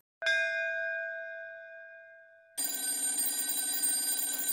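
A telephone bell strikes once with a ringing tone that slowly fades, then after a brief gap a loud, continuous metallic ring starts and keeps going to the end.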